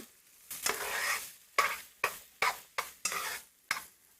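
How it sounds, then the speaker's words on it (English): Garlic is stirred in a pan in a handful of quick scraping strokes, each with a brief sizzle, close and fairly quiet between strokes, with no voices. "we are going to cut up our garlic, okay? We're going to stir that up just a little bit."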